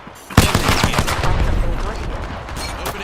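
Rapid gunfire in a shooter video game: a hard opening shot followed by a dense, fast burst of repeated shots for nearly three seconds, loud and close, with faint game voices mixed in.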